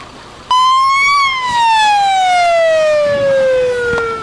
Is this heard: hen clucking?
no